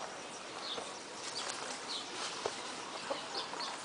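Roosters clucking in short scattered bursts at a moderate distance in the Brazilian countryside, over a bright hissing outdoor background.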